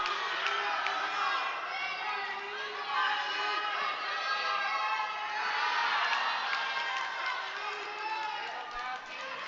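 A crowd at a provincial lead and top rope climbing semifinal cheers and shouts steadily to urge on a climber nearing the top, loud and sustained, with an announcer talking over it.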